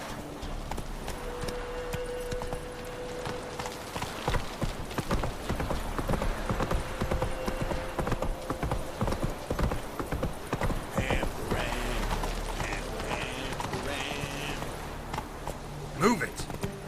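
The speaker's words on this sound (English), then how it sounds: "Run, Roach" Horse galloping in The Witcher 3: Wild Hunt, rapid rhythmic hoofbeats clip-clopping loudly throughout, with game sound effects and a brief snort near the end.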